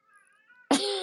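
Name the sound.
cat meowing for attention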